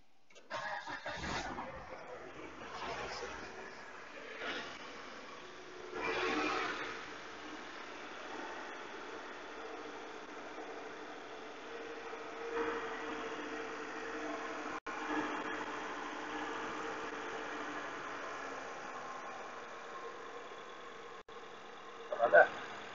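An Audi/VW car engine cranks briefly and catches, then settles into a low, steady idle heard from close by, with people talking intermittently over it.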